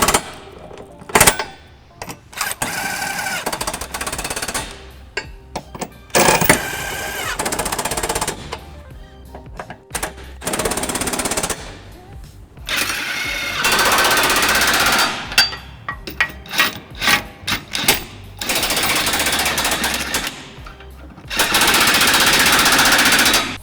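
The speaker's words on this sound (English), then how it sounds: "we're going to run these bolts up using a 17mm socket, and I've got a little impact here" Small impact wrench running up trailer hitch bolts with a 17mm socket on a 2000 Lexus RX300, loud close rattling bursts in repeated runs of a few seconds, separated by short pauses.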